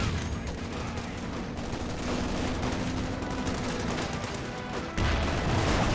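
In a Company of Heroes 2 battle, dense gunfire crackles without pause, with grenade blasts and machine-gun bursts layered into a loud, continuous wartime clatter.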